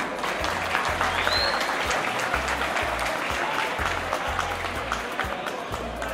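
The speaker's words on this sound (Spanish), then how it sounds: "para quien pedimos un fuerte aplauso" Sustained applause from an audience at a community celebration honoring the people of Villa Mella, steady and dense for several seconds with a low rhythmic thumping underneath.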